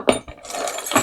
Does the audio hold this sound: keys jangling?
yes